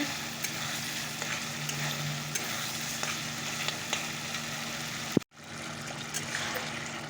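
Chicken and masala sautéing in a pan give off a steady, close sizzle that runs unbroken, with a sharp clack near the end and no voices.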